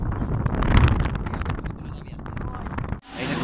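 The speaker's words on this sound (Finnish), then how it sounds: "Täällä kyllä tuulee." Wind gusts buffet the microphone at Tykkimäki amusement park while voices talk, ending in a sudden burst of rushing wind noise.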